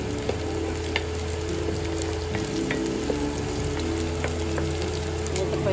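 Chicken adobo frying in a pan in a Filipino home kitchen, a steady close-up sizzle with occasional stirring scrapes and clicks, continuous and even, with no one speaking.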